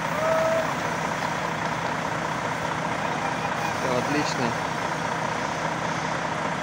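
A Volvo FM truck hauling a Kässbohrer Variotrans trailer rumbles as it pulls away. There is a steady, close diesel drone, a few brief beeps, and someone speaks over it.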